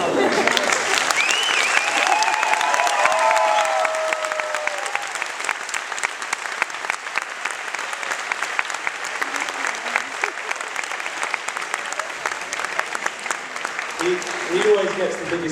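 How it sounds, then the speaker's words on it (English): Audience at a fantasy authors' panel discussion clapping and cheering for the translator, a long, even roar of applause from a large room, loud at first and then holding steady, with a few voices at the end. "the big cheer for the translator"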